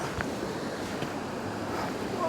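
A waterfall in Glen Etive among ferns makes a steady, even roar of rushing water, broad and unbroken throughout.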